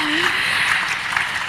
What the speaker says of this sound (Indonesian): Boleh tepuk tangan sekali lagi teman-teman semua yang lebih meriah